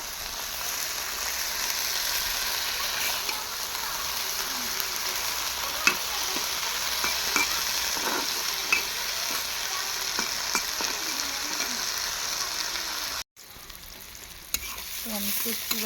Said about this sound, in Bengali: শীতল শুটকি, পেঁয়াজটা ভেজে নিচ্ছি।